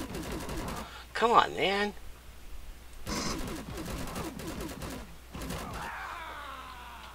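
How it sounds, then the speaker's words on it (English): Weapon fire from a gun in the space survival game Empyrion Galactic Survival: several short bursts spread across the stretch, mid-level and fairly close, with a man muttering in frustration between shots. "I'm having difficulty with this gun."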